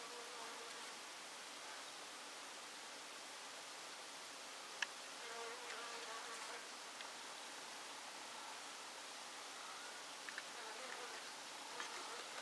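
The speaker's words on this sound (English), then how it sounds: "Not every day you get to see the workings of a bee colony like this." Honey bees from a colony inside a wall give a dense, steady buzzing hum with a few brief louder passes of individual bees close by.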